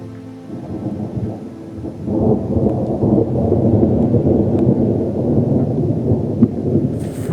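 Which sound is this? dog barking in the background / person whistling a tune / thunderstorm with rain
thunderstorm with rain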